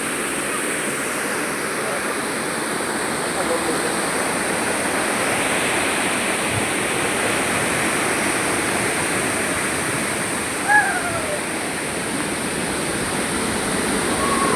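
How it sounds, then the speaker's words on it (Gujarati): A waterfall stream near the Fulnath Mahadev temple in a forest gives a dense, constant rushing roar for the whole stretch, fairly loud and even, broken only by a brief faint click near the end. "તમે નજીકથી ઝરણું બતાવો"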